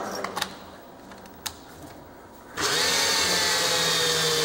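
A cordless drill on a weak, dying battery starts up and runs with a steady, strained whine after a few quiet clicks and taps, staying loud and close until the end.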